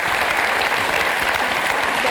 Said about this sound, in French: Quand le public vous applaudit aujourd'hui